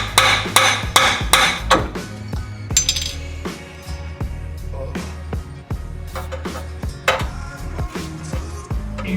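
A big hammer strikes repeatedly at Honda S2000 exhaust parts during a Skunk2 exhaust install, with loud metallic clangs, a quick flurry at the start and then irregular knocks and rattles.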